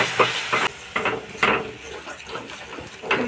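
Ginger paste and ground pepper being stirred in a pot on the stove, soft hissing and sizzling with light scraping and clinking of a spoon against the metal in short irregular strokes.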